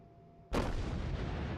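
A USS Iowa battleship in World of Warships takes artillery fire, with a sudden loud booming blast that rolls into sustained rumbling impact noise.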